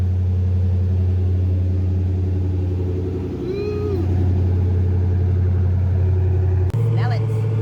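A 2006 Chrysler 300C with a suspected fuel pump issue, its engine running with a steady low rumble that stays close and loud throughout, ending in a brief sharp rev near the end.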